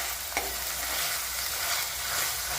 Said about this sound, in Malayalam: തക്കാളിയും കൂടിയിട്ട് നല്ലതുപോലെ വഴഞ്ഞതിന് ശേഷം